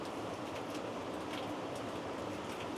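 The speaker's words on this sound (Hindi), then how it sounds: "बारिश हो रही है, कपड़े गीले हो जाएंगे" Rain falling steadily, an even, soft patter and hiss at low level that continues unchanged throughout.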